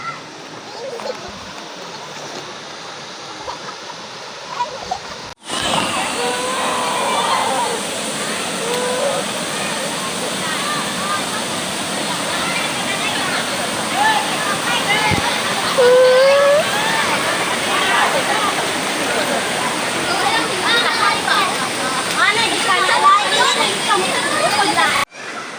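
Strong rushing water at a waterfall on a family trip in Cebu: a loud, continuous roar and splash that starts abruptly after a quieter opening and holds steady throughout, with a few voices faintly underneath.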